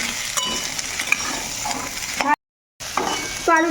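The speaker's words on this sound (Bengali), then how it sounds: "এখন আলুটা বেশ সুন্দর করে কষিয়ে নেবো" Potatoes fry in a pan for ghugni while being stirred. A steady sizzle runs with scraping stirs, breaks off into a brief silence, then resumes close and loud.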